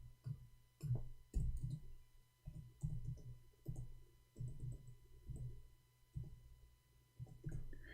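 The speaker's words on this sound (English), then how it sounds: "I'm typing in English" Irregular keyboard typing, quick bursts of soft key clicks with short pauses between them, close and fairly quiet, with no talking.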